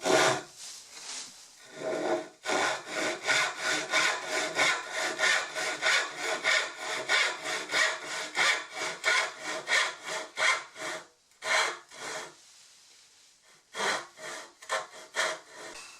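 A hand saw rips through wood along a centre line for a root vegetable cabinet skirt, with loud, rhythmic back-and-forth strokes close up and a few brief pauses between runs.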